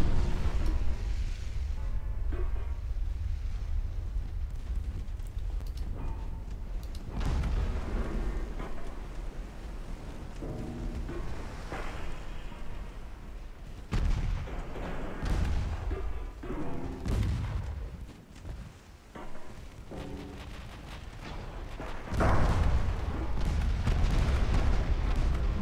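Heavy warship guns firing during a naval battle in a Dreadnought Improvement Project game with a fast 'Montana' battleship, deep booming salvos and rumbling blasts rolling continuously for nearly half a minute with loud peaks.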